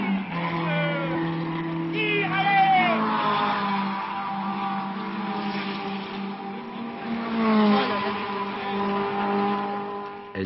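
A race car engine accelerating out of a corner, its pitch rising and shifting through gears, heard from a distance with steady rumble throughout while people talk over it.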